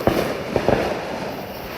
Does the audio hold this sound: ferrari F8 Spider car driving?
no